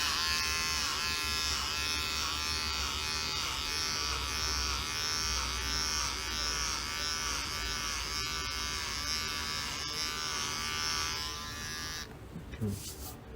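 An electric hair clipper set to 4 millimetres buzzes loudly and continuously close up as it shaves a man's hair in a home haircut, then cuts off abruptly near the end with a brief handling rustle.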